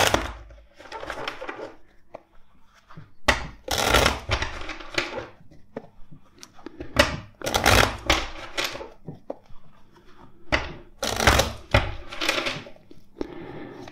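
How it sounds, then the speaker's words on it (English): A tarot card deck is shuffled by hand in several bursts, with crisp riffling and slapping of cards between short quiet gaps, close and fairly loud. "First, let's shuffle the deck four times."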